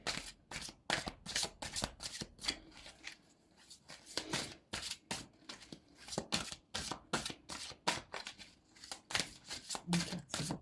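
Tarot cards shuffled repeatedly by hand at close range, a rapid series of crisp riffling bursts with short pauses between them, steady in rhythm and fairly quiet.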